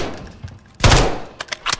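A short burst of gunfire from a Modern Warfare 3 weapon, loud and close, a thick blast followed by a few quick rattling shots after a moment of near silence.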